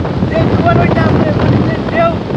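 Strong stormy wind gusts beside a river in a Bangladeshi village during rain, as a loud continuous rush of wind buffeting the microphone, with a voice speaking briefly over it.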